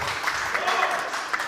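A group applauds Hamit Bey at a Giresunspor donation campaign event, a short burst of scattered clapping heard under a man's speech.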